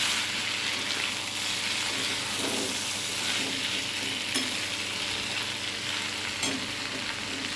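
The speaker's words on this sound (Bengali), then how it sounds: "এবার কুঁদরিগুলো দিয়ে দেবো। তো ভালো করে নেড়ে দেবো।" Ivy gourd pieces sizzle steadily in a hot pan as they are stirred, a dense continuous frying hiss up close with occasional scrapes and soft clatters, no talking.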